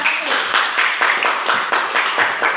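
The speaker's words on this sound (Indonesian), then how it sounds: "Kita kasih aplaus untuk kelompok 1." A room of people giving a short round of applause for a presenting group, close, brisk clapping with a steady pulse lasting a couple of seconds.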